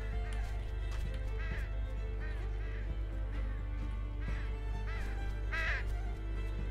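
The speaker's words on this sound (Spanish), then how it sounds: "Espantar los cuervos." Crows caw repeatedly in the video game Unravel, a series of hoarse calls scattered at irregular intervals over a steady low background hum.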